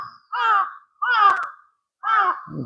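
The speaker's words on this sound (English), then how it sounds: "Get away from these fucking birds." Three loud, harsh crow caws ring out close by in a park in Kyoto, each a drawn-out call separated by brief silence.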